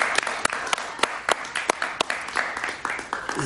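Studio audience applause during an interview, a brisk patter of many hands with sharp individual claps standing out, moderately loud and sustained over the few seconds.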